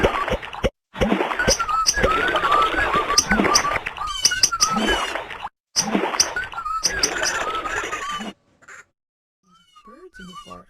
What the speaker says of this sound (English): If you listen, you can hear them whistling to each other.